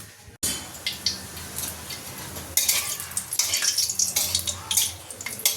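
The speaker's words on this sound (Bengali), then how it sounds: "কড়াতে গরম মশলা দিয়ে দিয়েছি, ভাজাও হয়ে গেছে, লাল লাল হয়েছে।" Garam masala frying in a kadai, a close crackling sizzle with stirring scrapes and metal clinks that grow louder and busier partway through, with no talking.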